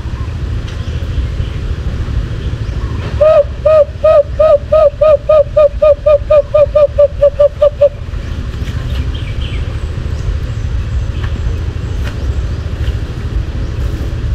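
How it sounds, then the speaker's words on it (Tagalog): An alimokon bird calls in a rapid, evenly spaced series of about twenty clear hooting notes, fairly close and prominent over a constant low engine-like rumble. "Yan ang pangkati ng ibon pagtawag ng alimokon."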